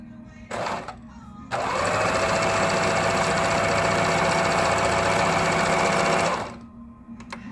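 A sewing machine stitches a zigzag, starting with a short burst and then running in one steady, close, rapid mechanical rattle for several seconds before stopping.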